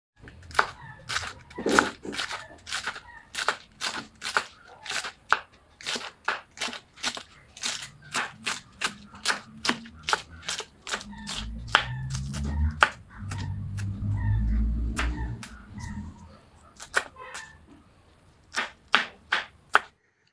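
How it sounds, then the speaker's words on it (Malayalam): Winged beans (chathura payar), several held together, chopped finely with a knife on a board: a fast run of sharp, close knocks with a brief pause midway under a low rumble, then a few last chops. "ഇതൊരു നാലഞ്ചെണ്ണം ഒന്നിച്ച് വെച്ച് നമുക്ക് ഇതുപോലെ ചെറുതായി അരിഞ്ഞെടുക്കട്ടോ"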